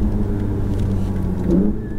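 A Ferrari 488 GTB's engine drones hard on the Fontenay-le-Comte circuit, close and loud, a steady mechanical roar that lifts briefly as the throttle opens.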